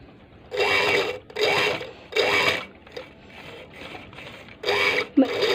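Sewing machine stitching a pressed fabric strip in short runs, three firm bursts then softer, slower stretches, close and fairly loud with brief pauses between.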